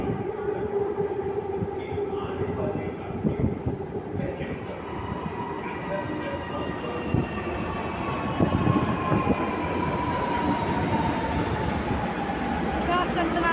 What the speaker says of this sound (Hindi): ये आवाज़ और हवा ये बता रही है कि ट्रेन आ रही है।